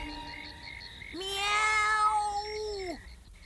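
A person imitates a cat with a single drawn-out meow, rising then holding before trailing off, fairly close and clear against a quiet background.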